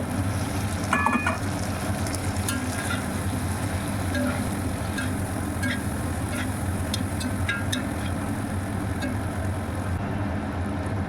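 Fried elephant-foot yam drops into hot spiced oil for a katla fish curry, a loud, steady close sizzle with a few light metallic clinks over it.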